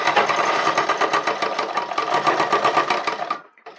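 A sewing machine stitches a trouser seat in a fast, steady mechanical chatter, close and loud, running continuously for over three seconds before stopping abruptly.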